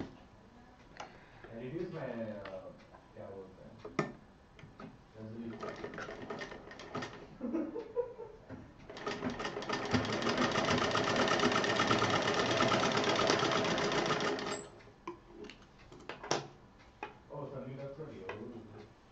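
A sewing machine stitches strips of a patchwork cushion cover together in a steady, fast whirring run of about five seconds, close by, with a person talking before and after it.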